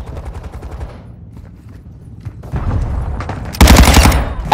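Shotgun blasts ring out in a first-person shooter match, a series of loud, close booming shots near the end following quieter rapid firing and clatter, with no voices.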